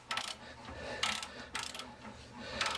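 Torque wrench tightening leaf spring U-bolts on a 1998 Ford Ranger: a few short, fairly faint ratcheting bursts spaced about half a second to a second apart, with light metallic clicks between them.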